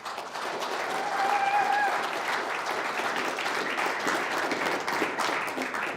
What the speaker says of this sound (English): let's go ahead and give a big round of applause to all those volunteers.